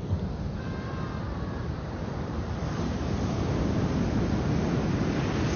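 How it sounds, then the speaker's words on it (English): Ocean surf washing steadily ashore with broad, continuous rushing noise and some wind buffeting on the microphone, fairly loud and unbroken, no voices. "If you listen real close to the ocean, you can hear it speak."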